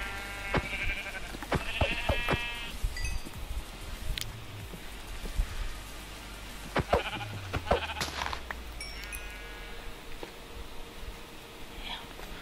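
Minecraft sheep bleat several times in quick bursts, fairly near and clear over a low game background with scattered thumps, no talk.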